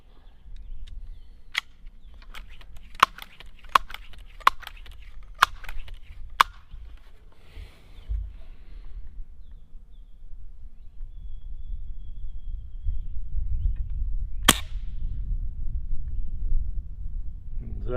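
Crosman air rifle shots at a target outdoors: several sharp, isolated cracks spaced a second or so apart, then a pause and one more distant snap over low background rumble.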